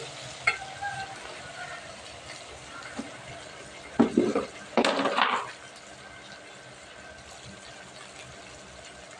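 Eggplant, potato and broad beans frying in a pan, a soft sizzle running underneath with a few louder bursts of stirring and scraping midway, then settling back to a quiet steady fry.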